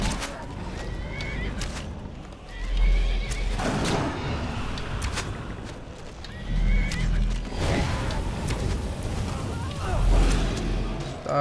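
A horse in the Skyrim video game neighs and whinnies loudly several times, in repeated bursts over a noisy background of combat and movement.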